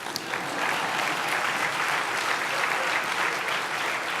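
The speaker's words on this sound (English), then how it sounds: "we can clap for Ed" A large audience applauds in a dense, sustained wash of clapping at a JFK Profile in Courage award ceremony, steady and full throughout without pause.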